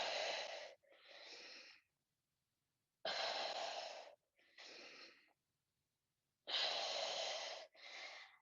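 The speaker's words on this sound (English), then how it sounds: "Inhale down, exhale up." Heavy breathing during an exercise workout: three cycles of a loud, forceful breath in followed by a shorter breath out, close up, separated by brief silent pauses.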